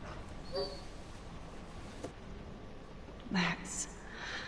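A dog whimpers in the video game Life is Strange, giving short high whines and a yip scattered across faint background ambience, with one stronger cry near the end.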